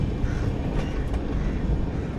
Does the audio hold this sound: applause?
no